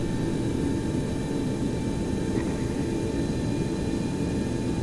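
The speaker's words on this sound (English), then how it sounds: "That EPU wind down sound." Aircraft engine noise from a Boeing 727-200F in the X-Plane 11 flight simulator, a steady low roar with faint whining tones that holds at a fairly constant level, without any talk.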